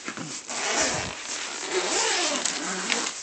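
The zipper on a Bulldog Extreme Discreet assault rifle case being drawn open, a continuous rasping zip lasting a few seconds, close and fairly loud, with fabric rustle and no talk.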